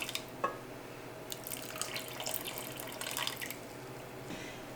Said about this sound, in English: And now I'm adding 90 mils of water.